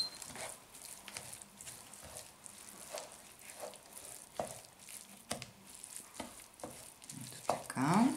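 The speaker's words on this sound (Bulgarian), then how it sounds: "разбъркваме" Chopped walnuts being stirred in a pan with the heat switched off, for a lenten cabbage sarma filling: faint residual sizzle under repeated scraping and tapping of a spoon, building to a busier rustle near the end.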